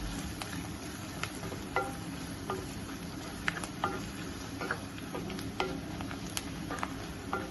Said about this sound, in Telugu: ఉల్లిపాయ మెత్తళ్ళు అన్నీ చక్కగా వేగిపోయినాయండి